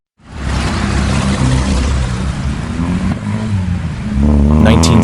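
A 1973 Pontiac Firebird Trans Am SD 455 V8 roars loud and close, holding a steady rough growl, then revving harder toward the end.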